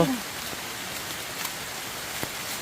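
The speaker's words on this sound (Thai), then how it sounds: "ฝนมาเองแล้วนะครับ" Steady rain falls on a mountainside during a bamboo-shoot foraging trip, a continuous close hiss dotted with a few sharper drop hits and no talking.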